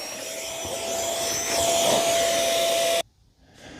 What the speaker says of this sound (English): I really do like this little handheld vacuum cleaner.